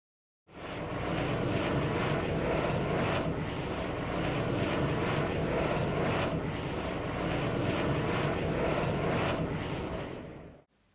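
A helicopter flies overhead, giving a steady, loud, continuous engine and rotor roar that holds for about ten seconds before cutting off abruptly.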